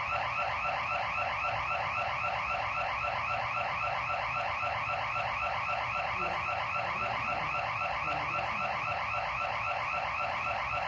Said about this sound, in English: Y'all cut the alarms off